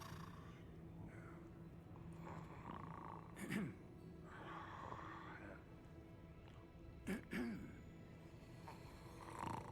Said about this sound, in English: Fucking snoring Gnoblin.